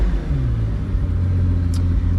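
A Pagani Huayra Roadster BC with an AMG V12 firing up, a loud deep rumble that settles into a steady low idle heard from the driver's seat, with a brief high click partway through.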